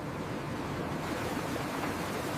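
Water rushes continuously over fresh sugarcane being washed in a sugar factory, a steady broadband splashing roar without pauses.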